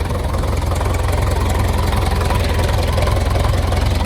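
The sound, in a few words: engine idling after starting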